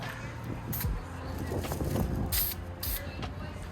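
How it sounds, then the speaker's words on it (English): Broadband hissing bursts of aerosol metal-cast paint sprayed onto car brake calipers, several short blasts at close range, over background noise. "now's the time to spray this purple metal cast stuff onto the calipers"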